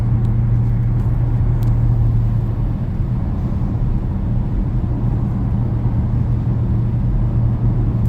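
Cabin of a 2000 Audi A6 4.2 V8 with an aftermarket muffler, driving on a mountain road: a steady, subdued low engine drone and road rumble with a constant hum, continuous and even, no talking.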